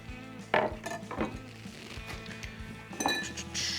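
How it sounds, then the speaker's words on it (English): Cutlery and metal utensils clinking as they are shoved aside on a sticky bar counter while mixing a cocktail, a few sharp close chinks and rattles scattered over several seconds. "let's move the cutlery out of the way"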